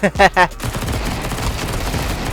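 Gunfire in the video game Counter-Strike 2: a rapid, dense burst of shots runs steadily after a few short spoken words at the start.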